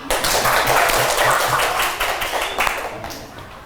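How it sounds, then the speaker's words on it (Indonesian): A classroom bursts into applause, many hands clapping at once in a dense, lively patter that starts loud and gradually thins and fades over a few seconds. "Ya, beri tepuk tangan."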